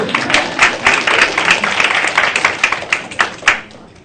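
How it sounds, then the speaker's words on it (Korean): A short round of hand clapping from a small group in a university lecture, steady and fairly loud, tapering off toward the end. "박수 한번 쳐주세요"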